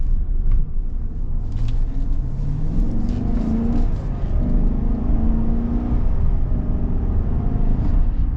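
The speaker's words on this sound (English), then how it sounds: "But I'd say that it accelerates at a pretty solid pace." A 2025 pickup truck accelerating from inside the cab: a low, steady engine rumble with a rising, droning tone under road noise, continuous for several seconds, with no talking.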